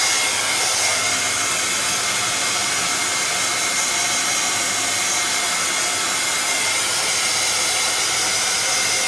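A heat tool blows continuously as it dries gesso on an art journal page, a loud, steady whooshing roar that runs unbroken through the whole stretch.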